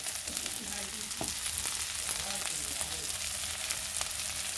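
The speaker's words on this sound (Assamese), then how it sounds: "এতিয়া মই আলুখিনি টেঙাৰ পাতৰ সৈতে ভালকৈ ফ্ৰাই কৰি ল'ম" Potatoes frying with tenga leaves in a pan, a steady soft sizzle with occasional stirring scrapes, heard close and alone.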